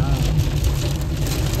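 Steady rain drums on a car while driving on a road after crossing Karad, a dense, close, continuous wash with a low rumble underneath.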